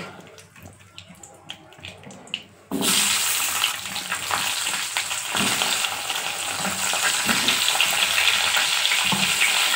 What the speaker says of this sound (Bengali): ছোটো ফুলকপি তাই আমি একসঙ্গে ভেজে নিচ্ছি